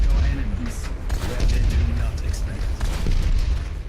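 Gunshots and booming impacts in the video game Overwatch played through Dolby Atmos headphones, dense repeated low thuds and bursts over a rumbling mix, loud and continuous.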